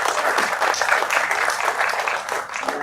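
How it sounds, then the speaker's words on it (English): Audience applause at a talk honoring a student who thrived after school struggles, a dense, continuous wash of many hands clapping, fairly close and steady throughout with no speech over it. "She deserves a clap."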